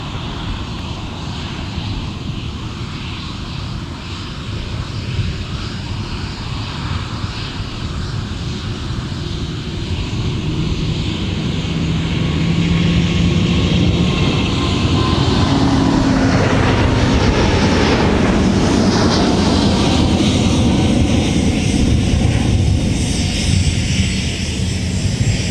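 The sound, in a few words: Delta 160 Heavy jet taking off, MSP airport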